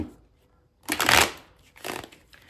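Tarot cards being shuffled by hand up close, two crisp riffling bursts of papery flutter separated by a short pause, with no talk over them.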